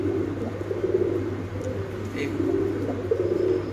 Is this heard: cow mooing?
no